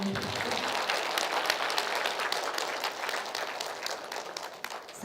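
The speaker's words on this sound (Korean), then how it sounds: "이 말에 맞으면 박수 한번 주시면 좋겠습니다." Audience applause at a Korean cultural lecture with a singer on stage in Geochang, a dense, steady wash of many hands clapping that fills the room, loud and continuous throughout.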